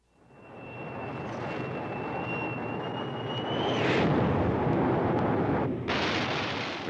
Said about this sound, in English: The planes are in the air as Johnson announces his decision.